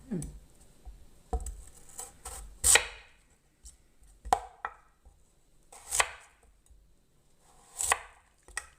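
A knife chops radish into roughly one-centimetre cubes on a cutting board while making Korean radish rice cake, sharp irregular knocks coming in small clusters with quiet gaps between them, close and crisp.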